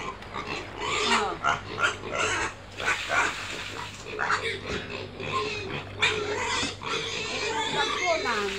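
A pig oinks and grunts repeatedly from a farm-style pen, close and fairly loud, while people talk over and around the animal's noises.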